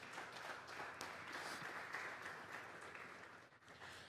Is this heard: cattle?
no